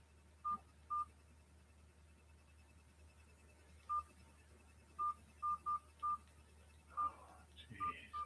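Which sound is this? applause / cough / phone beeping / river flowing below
phone beeping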